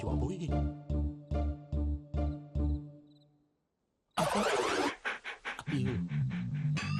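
A dog pants in a quick, steady rhythm of about seven short breaths close by, then falls silent before a burst of louder mixed noise and voices takes over.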